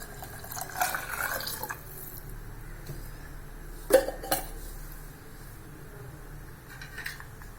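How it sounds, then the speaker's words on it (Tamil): Bottle gourd cooking water poured into a pan during home cooking, with soft splashing, metallic clinks of the pan and a sharper knock midway, fairly quiet and close. "இப்போ நம்ம இந்த சுரக்காய் தண்ணியை நம்ம இதில் ஊற்றிடலாம்."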